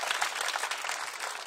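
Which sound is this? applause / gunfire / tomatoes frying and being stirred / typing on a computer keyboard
applause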